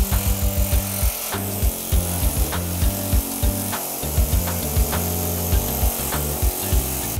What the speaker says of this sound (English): He's using an air hammer with the metal tip.